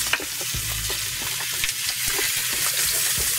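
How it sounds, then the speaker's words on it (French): Seal flipper meat searing in very hot oil in a pan, a steady close sizzle and crackle with small stirring scrapes, no voices. "Pendant que la viande saisit"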